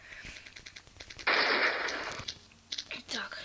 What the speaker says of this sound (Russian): Стреляет, лучше выключить звук.